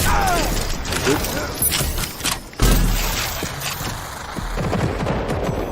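Enemy gunfire in the shooter game Rage 2, a dense run of shots and bursts with booms and mechanical clatter, loud and continuous for the whole stretch, with a short lull midway.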